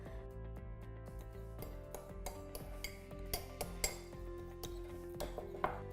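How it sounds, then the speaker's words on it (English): The back of a fork mashes peeled garlic in a dish, giving faint, scattered metallic clinks and taps against a steady low tonal background, with a few sharper knocks near the end. "I'm just going to mash it with the back of the fork"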